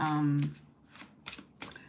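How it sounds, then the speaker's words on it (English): Tarot cards being shuffled by hand, with several short riffling bursts spaced through the moment after a voice briefly speaks. "I shuffled the cards"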